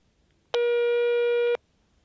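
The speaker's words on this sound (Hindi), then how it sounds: "फोन कट गया यार।" A single steady electronic busy tone from a disconnected phone call sounds for about one second, clear and loud against near silence.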